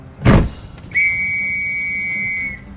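A thump followed by one long, steady high-pitched whistle blast signalling a troop charge, lasting about a second and a half, clear and close.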